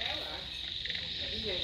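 A dense, continuous chorus of insects trills steadily with frogs croaking underneath, an unbroken night-time din in the Mekong Delta countryside of Vietnam, with no talking.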